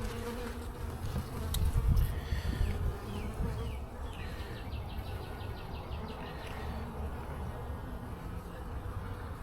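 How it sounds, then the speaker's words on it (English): Honeybees buzz at the front of a hive during an early-spring inspection, a steady close hum with individual bees droning past, fairly faint and without speech. "It doesn't seem like robbing frenzy at the front of the hive"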